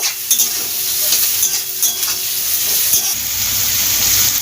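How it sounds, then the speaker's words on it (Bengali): Chopped onions sizzle steadily in a hot pan with salt added, with a bright frying hiss throughout and a few spatula scrapes and stirs. "ভালোভাবে পেঁয়াজটা ভেজে নেব"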